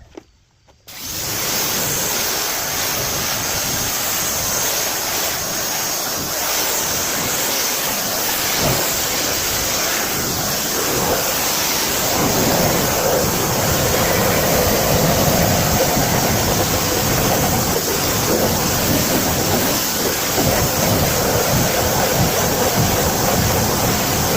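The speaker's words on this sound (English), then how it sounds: "And let's rinse it." A car wheel is rinsed with a steady water spray after cleaning with tire product. The hiss of the spray is close and loud and runs continuously, with no talk.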